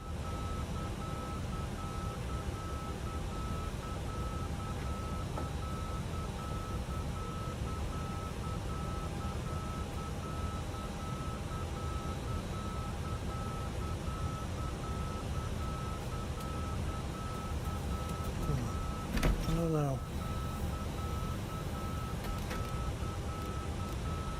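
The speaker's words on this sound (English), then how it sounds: "we definitely want that beep to be gone, don't we?" A faint electronic beep repeats at a steady interval from a phone-side flight simulator setup, thin and persistent beneath a constant low background hum, with a brief cluster of chirps near the end.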